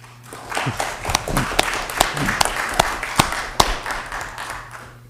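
Audience at a township council meeting gives a short round of applause, with sharp individual claps standing out over a steady patter that swells and then thins out over about five seconds.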